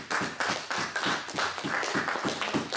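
Children clapping together for Jesus at a church gathering, a steady run of claps with some unevenness, fairly close, and no speech over it.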